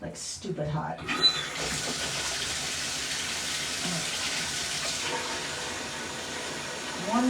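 Hot water gushes steadily from a tap into a cleaning bucket, a constant close splashing rush that continues from start to finish.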